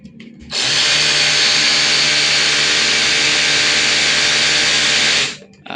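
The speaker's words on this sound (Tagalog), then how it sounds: "Hammer drill natin." A repaired cordless hammer drill runs at full speed, a loud steady high-pitched whine that starts abruptly, holds for about five seconds, then winds down.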